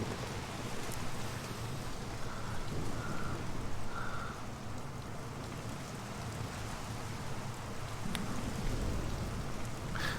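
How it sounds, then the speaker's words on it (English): Steady rain in Mafia: The City of Lost Heaven, a broad, even hiss of falling water that holds at moderate level throughout, with faint low rumbling beneath and no voices. "so no more weather for now, even though you hear the rain"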